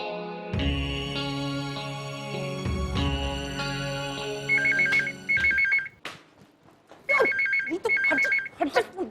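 A phone rings with a bright melodic ringtone, repeating several times, loud and close, with no talking over it.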